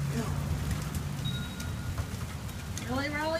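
Steady rain patters on a surface close by during a storm in Tulsa, with brief indistinct voices and a rising whine near the end.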